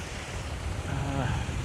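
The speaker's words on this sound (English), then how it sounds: "Even though it's real windy" Strong wind gusts outdoors at a pond during fly fishing, a loud continuous buffeting rush against the microphone, with a voice speaking faintly underneath.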